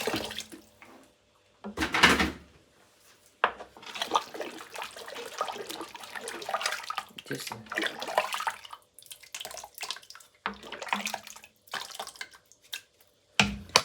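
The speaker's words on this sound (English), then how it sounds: "I'll add in a little water again" Water pours into a pot of Banga palm-nut stew in bursts, splashing and trickling at close range with pauses between pours.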